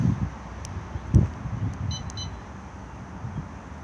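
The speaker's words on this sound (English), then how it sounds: "2 beeps armed." A Coachman Laser 665 caravan alarm fob gives two faint, high, short beeps as it arms the alarm outdoors, heard over steady wind noise.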